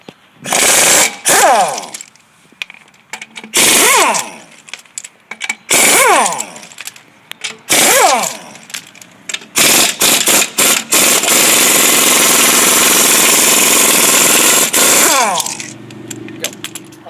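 A power tool, likely an impact wrench, removes a car tire for a rear drum brake job, firing in four short loud bursts and then one long sustained run, close up with no talk.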